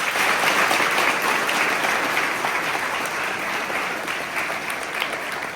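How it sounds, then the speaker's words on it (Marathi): A crowd claps steadily in sustained applause, loud and even throughout before easing slightly toward the end. "एकदा कडाळून टाळ्या तुमच्या आई वडिलांसाठी वाजवायचे"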